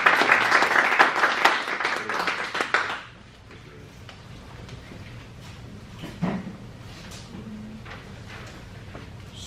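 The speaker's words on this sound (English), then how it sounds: "So please, a round of applause for them." Dense audience applause rings out for about three seconds, then cuts away to a quiet room with faint scattered claps, a few soft knocks and low murmur.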